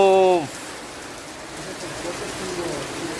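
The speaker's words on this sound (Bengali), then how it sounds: "বৃষ্টি।" Monsoon rain falls steadily during the Bhadra season, a soft, even hiss that carries on without a break after a brief voice at the very start.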